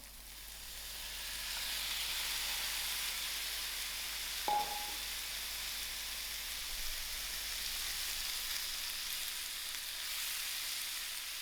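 Prawns frying in a pan for a fettuccine pasta dish, giving a steady soft hiss and sizzle that carries on alone throughout, with one brief tap near the middle.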